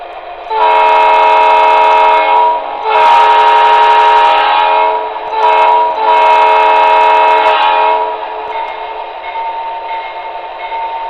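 A loud electronic train horn from a model locomotive sound card blasts in several long sustained tones with brief gaps, then settles into a quieter steady hum.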